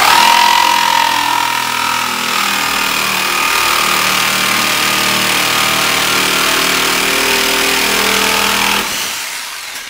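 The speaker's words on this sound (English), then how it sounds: "I'm going to use a jigsaw to cut it" A jigsaw rough-cuts wood for a broken chair leg repair, a loud, steady buzzing drone running nearly unbroken for about nine seconds before it cuts off near the end.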